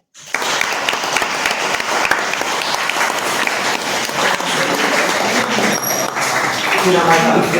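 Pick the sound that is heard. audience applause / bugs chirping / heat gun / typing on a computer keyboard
audience applause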